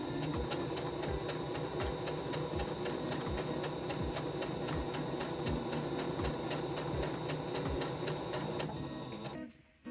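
A sewing machine, a second-hand one bought through an online marketplace, running a straight stitch: a loud, fast, even mechanical chatter with rhythmic needle thumps, running continuously up close before stopping abruptly at the end.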